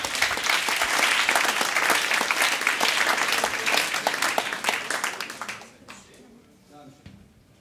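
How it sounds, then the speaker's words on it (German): An audience at a live talk claps together in dense, steady applause that rings loud for several seconds, then thins out and fades, with a few scattered claps and a murmur of voices at the end. "Ach komm, klatsch mal kurz und dann geht's los."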